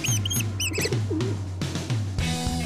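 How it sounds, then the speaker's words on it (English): Pigeons coo on a film set, low throaty calls repeating near the microphone, with some brief chirps over a steady background hum. "Today we've got the dubious honor of bringing rats and pigeons to the set."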